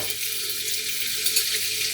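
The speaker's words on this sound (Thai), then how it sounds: "พอน้ำมันเริ่มร้อนก็พริกแกงเผ็ด2ช้อนโต๊ะ" Steady crackling sizzle of two tablespoons of red curry paste frying in hot vegetable oil, close and continuous, with bright hissing spatter throughout.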